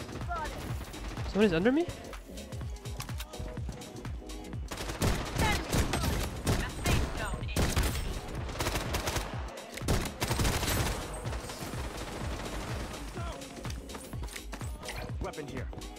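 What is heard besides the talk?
gunfire in Bloodstrike video game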